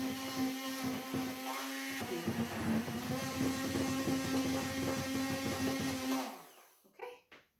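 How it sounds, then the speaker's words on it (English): An electric hand mixer whirs through chocolate pudding made as a soft meal after oral surgery, a loud, steady motor whine running for about six seconds before it cuts off, followed by a few brief clatters. "so I'm going to use my hand mixer"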